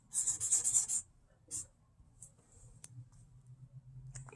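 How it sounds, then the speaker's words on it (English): A silver marker writing on a craft photo prop, a burst of close squeaky scratching strokes, then a few shorter strokes and faint taps against a quiet background. "So I'm using a silver marker. I'm going to write register"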